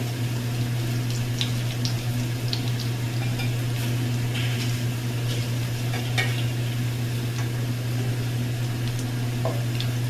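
Jackfruit kofta balls shallow-frying in hot oil until lightly browned, a steady even sizzle over a low constant hum, with occasional soft clinks from a utensil in the pan.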